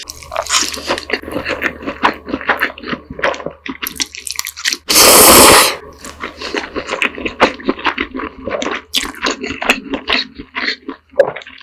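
Close-up mukbang eating of strawberry bibim noodles brings dense wet slurps, squishy chews and small crunches, broken by one loud noisy burst midway.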